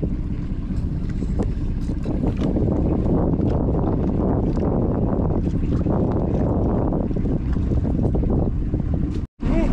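A boat's engine drones steadily and loudly throughout, mixed with wind buffeting the microphone, out on the water while fishing longline gear is being hauled in.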